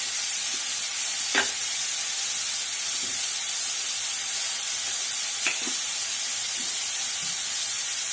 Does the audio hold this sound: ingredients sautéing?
yes